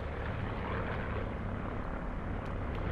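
An airplane roars overhead in the Call of Duty Blackout battle royale, a loud, steady broadband engine drone that holds constant throughout with no voices.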